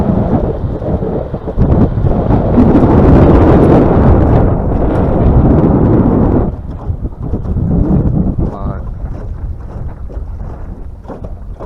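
Strong wind blows over open water during a fishing outing by boat, battering the microphone with loud, rumbling buffeting that eases into weaker, gusty bursts partway through.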